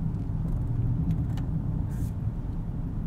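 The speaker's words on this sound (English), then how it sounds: "It's incredibly quiet in here too. Barely any wind or road noise, even up to speeds of 90 miles an hour." Quiet cabin of a 2022 Rolls-Royce Cullinan on the move, a steady low muffled road rumble with very little wind noise, smooth and even throughout, no talking.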